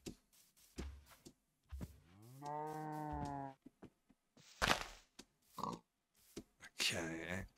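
A cow in the video game Minecraft gives a long, loud moo, followed by another lowing call near the end, with someone talking between the calls.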